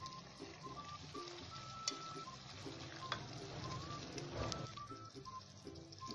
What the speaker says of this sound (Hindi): अब इसे अच्छी तरह भून लेंगे हम और फिर इसमें ऑयल ऐड करेंगे।